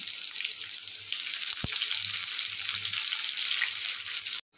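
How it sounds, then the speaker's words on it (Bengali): Onion dropped into hot oil with dry red chillies and nigella seeds, giving a steady, close hiss of frying that runs unbroken and then cuts off abruptly near the end. "এর মধ্যে আমি পেঁয়াজটা ছেড়ে দিলাম।"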